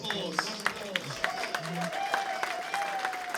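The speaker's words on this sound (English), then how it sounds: "Round of applause." Audience applause and crowd noise fill a hall at the poLANd.tf 2026 Team Fortress 2 6v6 playoffs grand final between MANDEM and Witness Gaming, steady and moderately loud, with a voice talking over it.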